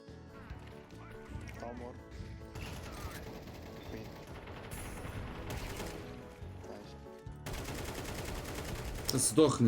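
Rapid bursts of video game gunfire crackle over a dense, busy mix of mechanical clatter and game sounds, growing louder toward the end.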